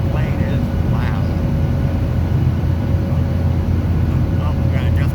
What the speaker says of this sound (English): I have no idea if you can hear me because this plane is loud.